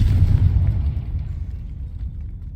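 A Confringo explosion spell cast in a video game bursts with a loud, deep boom that rumbles and fades over a couple of seconds.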